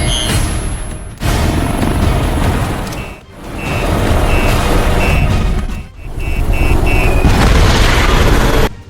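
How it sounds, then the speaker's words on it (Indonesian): A large helicopter explosion in a film scene gives a loud, sustained roar of deep rumbling blasts that swell and fade in three long waves, with faint high electronic tones layered over it. "Ledakan besar pun terjadi dan secara resmi mengakhiri hidup Brackle"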